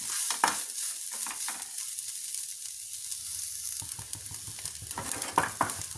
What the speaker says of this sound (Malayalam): ഇനി ഒന്ന് ഇളക്കി കൊടുക്കാം നമ്മൾ മുഴുവനായിട്ടും വറക്കണില്ല ചെറുതായിട്ടൊന്ന് വറുത്തെടുക്കാം